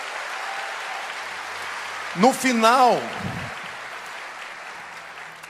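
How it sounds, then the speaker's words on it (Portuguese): A church audience applauds steadily for Aline, a continuous wash of clapping with a single voice briefly speaking over it midway before the clapping carries on alone. "Vamos dar uma salva de palmas para ela"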